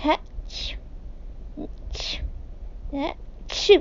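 A narrator's voice imitates three sneezes in a row for the character Tails, each a sharp burst with breathy buildups, spaced out against a faint background hiss; a short exclamation breaks in between them.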